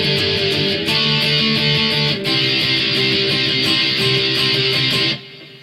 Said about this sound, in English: we're just going to be playing some power chords, and they're going to sound like this then